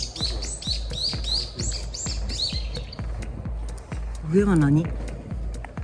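Pigeons in a derelict apartment block in Busan, South Korea, with chirpy calls and cooing mixed among footsteps and knocks, while people talk nearby.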